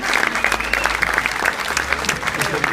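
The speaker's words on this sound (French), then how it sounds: "Vous pouvez l'applaudir." An audience at a cabaret magic show applauds with dense, lively clapping that stays strong throughout, with a voice speaking briefly under it.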